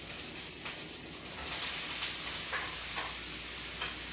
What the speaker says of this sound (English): we're just going to cook this until the apple is tender